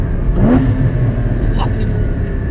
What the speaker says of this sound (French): Et le downshift, écoutez, ça c'est magnifique.